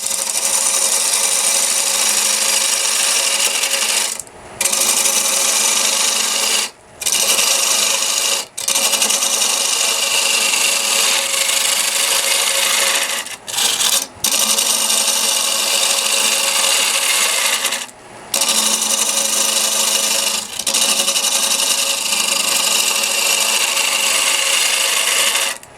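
Carbide square tool cutting a wood bowl on a lathe, a steady, loud rasping scrape that runs nearly continuously, broken by several brief pauses as the tool lifts off the spinning wood.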